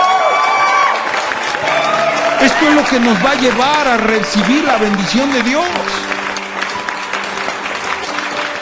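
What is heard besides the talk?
congregation applause in church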